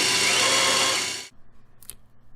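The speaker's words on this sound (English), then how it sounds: "Here's the first grind pass." A precision grinder takes its first pass on a toolroom spindle, making a loud, steady broadband grinding roar that cuts off abruptly partway through, leaving low machine hum and a brief faint tick.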